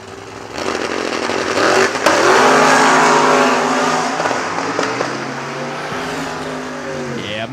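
Drag racing cars, including a Camaro, launch hard with loud revving engines that climb and shift, roaring close by, with a brief burst near the start and continued engine howl throughout.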